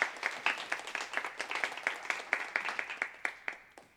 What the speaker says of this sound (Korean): 우리 박수로 한번 환영해 주시도록 하겠습니다